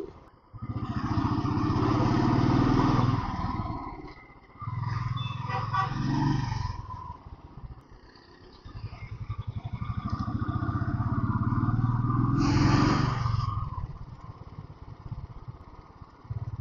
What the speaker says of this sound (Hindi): और 30 से ऊपर चल रही है बाइक